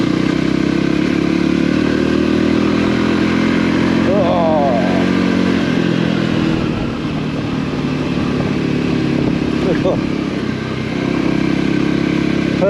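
A Voge 300 Rally motorcycle rides along a green lane in England, its engine droning loud and steady up close with slight pitch shifts and wind buffeting, as a rider talks over it.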